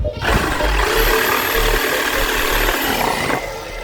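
A handheld cutting machine cuts on a homemade table, making a loud, steady high-pitched whine and grinding roar that starts abruptly, holds for about three seconds, then winds down.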